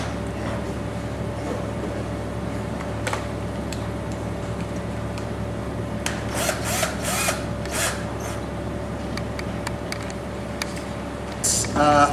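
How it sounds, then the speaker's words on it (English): A power drill driving screws into wood whirs in short bursts over a steady background hum, with a few brief higher-pitched spins near the end. "Pre-drill both sides."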